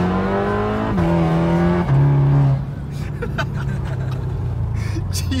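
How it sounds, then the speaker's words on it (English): A tuned Volkswagen Golf 7.5R accelerating hard toward quarter-mile pace, its engine note climbing through two or three quick gear changes, then dropping to a steadier cruising hum with road noise, fairly close and loud. "You guys kind of saw the acceleration, and I turned it when we reached the speed limit."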